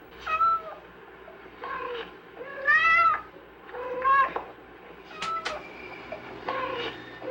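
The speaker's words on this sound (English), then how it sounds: "She's found that cats produce about 15 basic calls" A domestic cat meows repeatedly, giving about six separate calls of varying length and pitch with short pauses between them, fairly close against a faint background hum.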